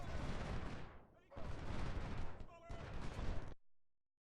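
Infantry volleys in Ultimate General: Civil War, three long rolling bursts of massed musket fire, heavy and rumbling, each lasting about a second, with a short gap between them before the last one ends abruptly.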